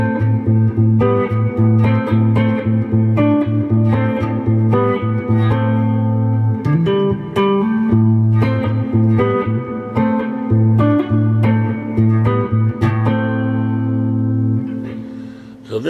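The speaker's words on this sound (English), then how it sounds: "this is just the dry guitar here" An electric guitar plays dry with no effects, a series of picked notes and strummed chords ringing out clearly and loudly, with short gaps between phrases and sustained tones in between.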